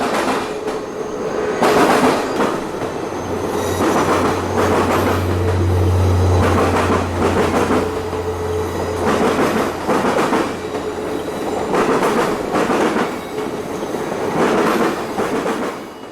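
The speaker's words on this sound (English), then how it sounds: "The train is a little shorter than it used to be, as the circus no longer transports elephants" Circus train rolling past on the rails, loud and close, with rhythmic clickety-clack of wheels over joints, periodic bursts as cars pass, and a low rumble underneath throughout.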